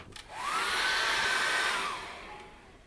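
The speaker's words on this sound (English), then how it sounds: "I'm just going to dry that off very quickly with a hairdryer" A hair dryer switches on and blows with a steady whirring roar and high motor whine for a couple of seconds, then powers down.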